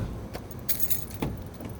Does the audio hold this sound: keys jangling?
yes